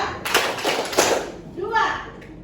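A class of children claps in a quick cluster of sharp hand claps, followed by a voice chiming in.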